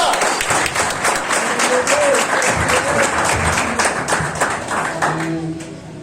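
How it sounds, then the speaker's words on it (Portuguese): Church congregation applauding in a sustained round of clapping with scattered voices and a brief sung or called note rising over it, steady and fairly loud throughout. "pode desocupar sua mão e dar uma salva de palmas"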